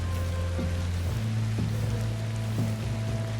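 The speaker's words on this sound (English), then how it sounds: "then it starts raining and now we can barely see anything" Rain falls steadily as a dense, even hiss in the video game Ancestors: The Humankind Odyssey, over a low, droning ambient tone with soft recurring pulses and no voices.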